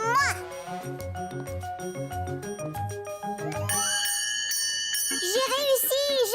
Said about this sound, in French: C'est moi qui vais faire sonner la cloche.